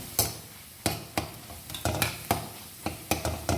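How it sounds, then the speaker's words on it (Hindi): Boiled potatoes for aloo halwa are stir-fried briskly on a medium flame, giving repeated scraping strokes of a spatula in a pan over a steady, loud sizzle, with no voices. "बस 1 से 2 मिनट आप मीडियम फ्लेम पे आपको इसको इस तरह तेज़ी के साथ भूनना है"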